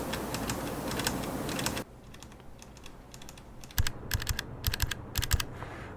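A bare Cherry MX Red mechanical key switch with no keycap is typed on. A soft stretch of rapid tapping gives way to sharper, distinct clicks and clacks in irregular bursts, close up and alone.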